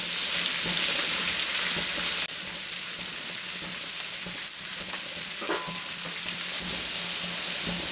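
Chopped onions for a Kerala prawn roast sizzle steadily in hot oil in a pan, a loud continuous hiss with occasional spatter and stirring, no talk.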